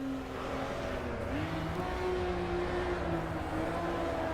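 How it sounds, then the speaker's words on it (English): A Honda-sounding car engine in the racing game Assetto Corsa EVO drones steadily, its pitch dipping briefly under braking before climbing again as the car accelerates, continuous and fairly close. "It even sounds like a Honda as well."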